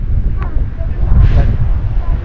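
Strong typhoon wind buffets the microphone in a low, steady rumble amid heavy rain, with a brief faint voice underneath.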